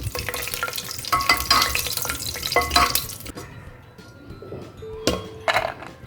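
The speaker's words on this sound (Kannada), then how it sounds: "ಈಗ ಈ ಕಾದಿರುವಂಥ ಎಣ್ಣೆಗೆ ನಾನು 2 ಸ್ಪೂನಷ್ಟು ಗೋಡಂಬಿನ ಹಾಕೋತಾ ಇದ್ದೀನಿ" Two spoonfuls of cashews sizzle and crackle in hot oil for a beetroot rice bath, with bursts of frying hiss, a few clinks of a spoon stirring, and a quieter stretch before short renewed sizzles, close and steady with no talk.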